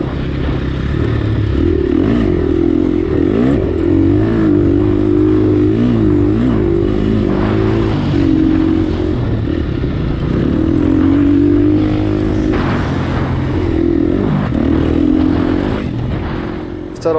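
A dirt bike engine in a hare scramble race revs hard and close, rising and falling in a steady sustained drone that runs the full length with rattling, under the rider's talk.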